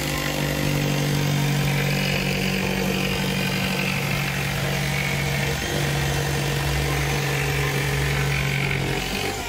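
The 150-watt heavy-duty motor of a Rasor OPTIMA702 runs with steel brass gears, producing a steady, close mechanical hum with a constant low tone that holds evenly for the whole stretch.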